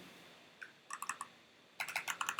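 Quick bursts of typing on a computer keyboard, a short cluster of clicks followed by a faster, louder run of keystrokes, close and alone with no talk.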